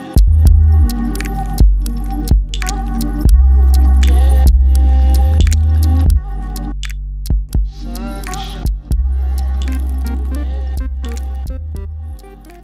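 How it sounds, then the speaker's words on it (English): Clothes hangers are pulled off garments and dropped onto a pile during closet cleaning, a run of sharp clatters and clinks at irregular intervals, close and loud over a steady low hum. "I'm just going to take all the hangers off of these and put them in a pile"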